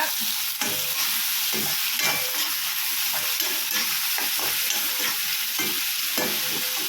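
Tomatoes being stir-fried for street-style kothu parotta, with a steady loud sizzle and repeated scraping, tapping strokes of a spatula in the pan throughout.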